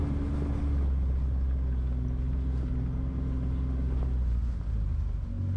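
A Kawasaki Mule utility vehicle drives along, its engine giving a steady low droning rumble heard up close from the seat, with faint rattles over the top.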